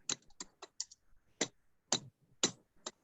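Bursts of typing on a computer keyboard, a handful of crisp key clicks in uneven clusters with short pauses between, close and fairly quiet, no voices.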